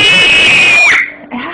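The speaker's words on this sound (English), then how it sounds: "Stop screaming!" A young girl's shrill, sustained scream cries out loud and close, gliding downward before breaking off, followed by a brief softer vocal sound.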